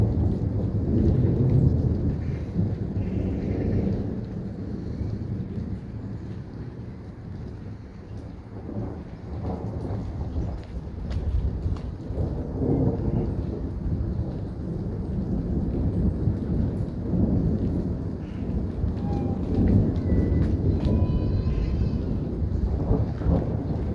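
A continuous thunderstorm with heavy rain hissing steadily and deep thunder rumbling and rolling almost without pause, recorded close with some wind buffeting on the microphone.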